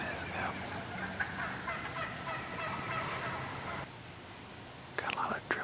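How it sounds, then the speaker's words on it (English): Several wild turkey hens call in a loose, overlapping chorus, steady yelps and clucks at moderate distance, with a burst of louder calls near the end. "Got a big group of turkeys over here. Hens that are cutting loose."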